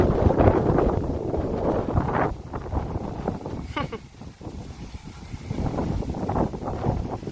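Strong, gusty wind after Typhoon Leon roars and buffets the microphone in continuous waves, with a voice speaking faintly beneath the noise.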